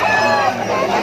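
A rooster crows loudly and close by at a busy chicken market in Malabon, one sustained raspy call filling the moment with no other sound competing.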